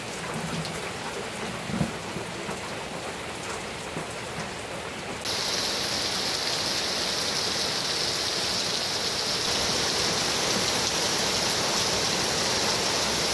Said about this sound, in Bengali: এইদিকেও কি জোরে বৃষ্টি হওয়া শুরু হলো